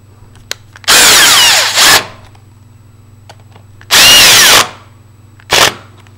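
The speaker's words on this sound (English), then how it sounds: "use whatever screwdriver of choice, which today will be my impact driver, because it's fast." An impact driver drives screws into a passage-function door lever handle in three loud bursts of whirring, ratcheting impacts, two long and one short, separated by pauses over a low steady hum.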